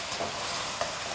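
Pork ribs stir-frying in vegetable oil in a wok, a steady close sizzle with a faint stirring clack partway through.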